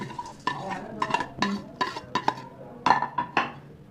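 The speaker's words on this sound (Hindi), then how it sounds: "फिर उसके बाद हम ये चने डालते हैं, सारी चीज़ें मिक्स कर देते हैं।" Spoon strikes and scrapes in a bowl as fried chickpeas, lentils and other crunchy mix ingredients are stirred together, a series of close, bright clinks and rustles in an irregular rhythm without talking.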